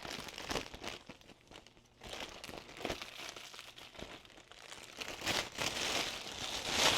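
A plastic oven bag being pulled open and handled for a ham roast, heard as close, faint crinkling and rustling in irregular bursts with no talking.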